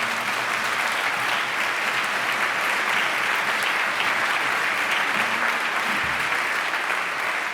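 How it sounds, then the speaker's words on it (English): A memorial audience claps in a sustained round of applause, dense and even for several seconds, with no talking over it. "maybe we can have a brief round of applause"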